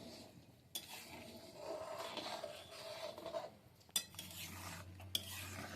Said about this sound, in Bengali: একটুক্ষণ ছাড়া ছাড়া এভাবে নাড়তে হবে